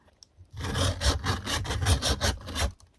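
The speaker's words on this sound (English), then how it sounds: "I'm using this contraption to sharpen my pencil. That's the noise you're hearing." A pencil sharpened in a sharpening contraption gives a close, steady grinding rasp in rapid repeated strokes, about eight pulses over two seconds, heard alone.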